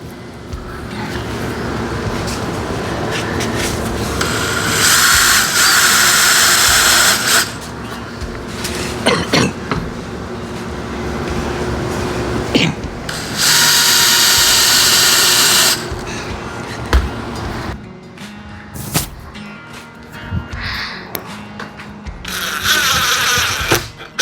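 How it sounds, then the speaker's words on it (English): A power drill countersinks holes and drives half-inch wood screws into a small woodworking piece, with several loud whirring bursts separated by quieter clatter and handling noise, close up. "So I'm going to make some countersink divots"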